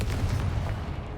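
Confringo fire spell blast in the Hogwarts Legacy video game, a low rumbling burst with a dense bass body that stays steady and loud through a short moment.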